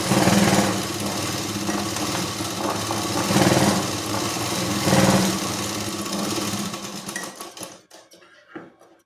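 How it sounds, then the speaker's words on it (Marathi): A sewing machine whirs steadily and close while double stitching a blouse, a continuous fast mechanical chatter with slight surges that slows and stops near the end, leaving a few faint clicks. "याला देखील आपण डबल शिलाई मारून घेणार आहोत."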